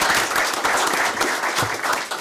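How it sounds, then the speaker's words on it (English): Audience applause at a school district board meeting for the administrator of the year, steady close clapping from a modest crowd lasting a couple of seconds. "So let's give him a round of applause."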